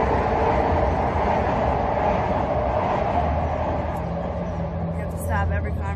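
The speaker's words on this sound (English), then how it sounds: "I do have a loud train coming through." A loud train rolls past outdoors on a Philadelphia street with a constant heavy rumble and roar of rail cars, close and steady throughout, with faint squeals near the end.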